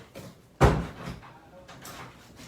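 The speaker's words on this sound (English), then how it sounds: "I'm gonna shut my door." A door is shut firmly in a home, one sharp thud near the microphone, followed by quieter shuffling and faint handling noises.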